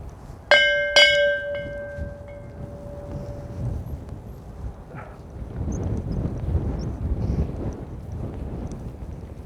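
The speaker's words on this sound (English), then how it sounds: "here's the bell, I'll give it a ring" Two bright metallic bell strikes ring out on a golf course, the tone decaying over a couple of seconds before giving way to steady outdoor wind noise.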